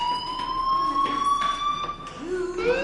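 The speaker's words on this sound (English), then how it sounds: "Hey, do you hear that fire alarm?" A fire alarm in the video game Life is Strange rings as a loud, sustained electronic tone that holds steady, then bends and shifts pitch near the end, with faint background sounds under it.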